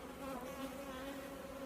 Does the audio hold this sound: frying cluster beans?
no